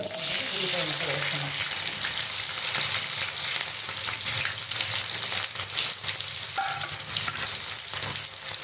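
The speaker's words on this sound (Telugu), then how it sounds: "తాలింపు దిగుతులు వేగిపోయినాయండి" Tempering spices sizzle and fry steadily in hot oil for a pumpkin curry, a loud continuous crackle close by with some stirring and clinking throughout.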